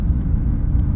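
A Suzuki Swift with a faulty clutch actuator pulls away under throttle, a low steady engine rumble heard from inside the car, brief and even in level with no talking.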